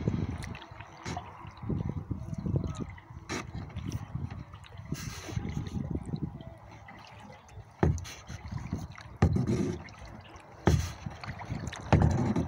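Paddling a Pelican Mustang 100x kayak on water: rhythmic splashes and dripping as the paddle strokes through the water, with repeated knocks and soft trickling close by.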